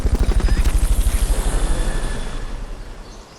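A Fulton recovery helicopter in the video game Metal Gear Solid Peace Walker thumps past with fast rotor beats, loud at first and then fading away over a few seconds.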